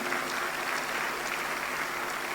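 Audience at a national economic leadership forum gives a round of applause, a steady, even hiss of many distant hands clapping at moderate volume, continuous and unbroken with no voices over it.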